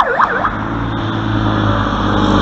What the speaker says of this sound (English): The siren for the fire truck here sounds